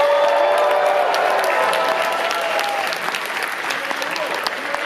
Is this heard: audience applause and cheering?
yes